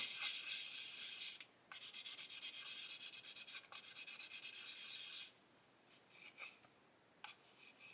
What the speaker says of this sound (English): So we're just going to sand over that wheel bay as well.